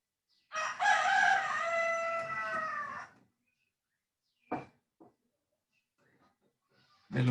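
A rooster crows once in a long, loud, clear call. Short faint clucks and a brief onset of a second crow follow in an otherwise quiet setting.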